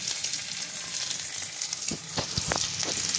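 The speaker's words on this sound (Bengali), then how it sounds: "তেলটা গরম হয়ে গিয়েছে, পেঁয়াজটা একটু ভেজে নেব" Onions sizzle in hot oil in a pan, a close, steady crackle that runs throughout, joined near the end by several sharp scrapes and knocks of stirring, with no speech.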